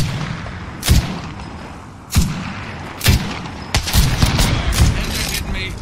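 Gunfire in Apex Legends: several sharp shots and short bursts crack out at irregular intervals over a steady game background, some close and loud, others clustered near the end.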